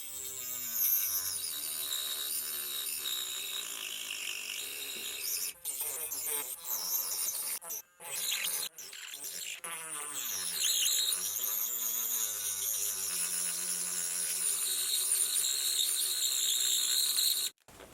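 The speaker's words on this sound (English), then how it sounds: "I've got my cutting wheel on." A Hardell rotary tool fitted with a cutting wheel notches into wood, giving a steady, high, whining buzz that holds for long stretches, dips briefly a few times, then cuts off near the end.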